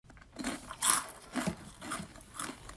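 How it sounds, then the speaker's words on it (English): Someone chews loudly and wetly, producing a string of irregular smacking and crunching bites close by at moderate volume, with no talking. "Who the fuck is chewing so loud?"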